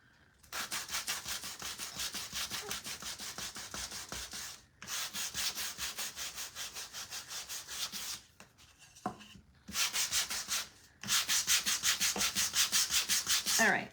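Sandpaper rubbing back and forth on a wooden scarecrow craft piece, a worn sheet giving close, steady scratchy strokes in three long bursts separated by brief pauses.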